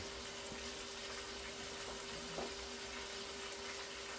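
Onions sizzling and frying in a pot while a pot roast is being cooked, a steady soft hiss that runs throughout at low level, with a faint clink partway through.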